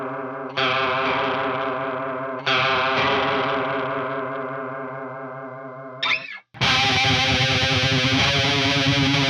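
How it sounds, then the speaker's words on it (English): Heavily distorted electric guitar chords in a late-90s nu metal tone ring out with a thick, swirling chorus effect, loud and sustained, with a brief break before a final crashing chord. "you can put a chorus on it and turn it up to excessively high levels"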